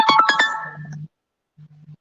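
A mobile phone ringtone plays a bright, quick electronic melody of a few rapid notes followed by a held tone, then a low buzzing vibration pulses faintly after a short gap.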